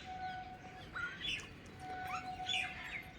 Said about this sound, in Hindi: ये देखो कितने सारे पंछी आ गए।